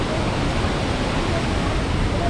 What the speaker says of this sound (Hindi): जो मेन वाटरफॉल है यहाँ का रानी दहरा वाटरफॉल का मेन वाटरफॉल ये है